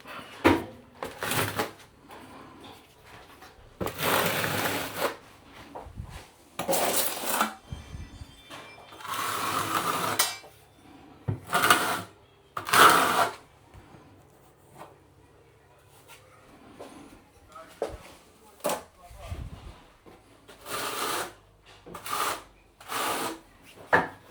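A 6mm notched trowel spreading tile adhesive on a utility room wall, heard as repeated rasping scrapes in bursts with pauses, close by and moderately loud, with someone speaking between strokes.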